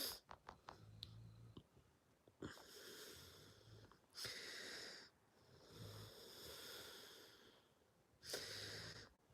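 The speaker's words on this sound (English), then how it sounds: "The dog is snoring." A dog snores in slow, repeated cycles, each breath a raspy wheezing snort followed by quiet pauses, faint and close.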